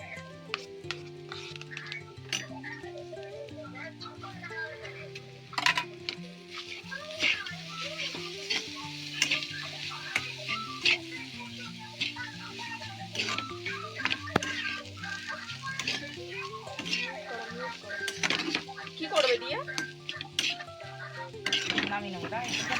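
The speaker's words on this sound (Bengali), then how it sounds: "এবার আমি কষিয়ে নেবো একটু ভালো করে" A rohu fish mixture with ground black pepper and chopped coriander is sautéed in a pan, with frequent scraping and clinking of a utensil against the pan over a soft sizzle. Faint background music or a voice sits underneath.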